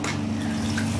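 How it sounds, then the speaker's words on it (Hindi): Water is poured into a cooking pan holding a tomato and masala fish curry, giving a brief, close, steady pouring splash with a low tonal hum beneath it. "पानी देके जोर अच्छे देदेवा"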